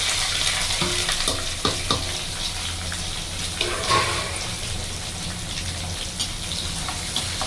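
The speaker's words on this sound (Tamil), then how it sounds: "பொரிச்சு இந்த பச்சை மிளகா கருவேப்பிலை வெங்காயம் எல்லாம் இதில் போட்டுடலாங்க." Green chillies, curry leaves and onion fry in hot oil as a tempering for fish curry, a steady close sizzle with occasional clinks of stirring.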